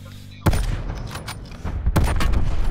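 Video game gunshots crack out loud and close in a few sharp bursts, with a cluster of rapid shots after the first and another near the end over background game noise.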